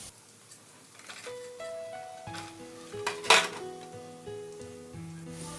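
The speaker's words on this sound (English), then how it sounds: "Now stir the onion." Onion being stirred in a pan with green chilies and ginger garlic paste, with clinking of a metal spoon against the pan in irregular taps and scrapes, one sharper clatter midway, and a faint sizzle beneath.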